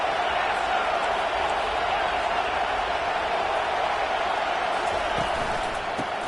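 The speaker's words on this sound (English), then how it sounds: "Now the crowd responding in the red zone" Football stadium crowd roaring during a Clemson versus LSU game as the opponent nears the red zone, a dense, steady wall of cheering and noise that holds loud and unbroken throughout.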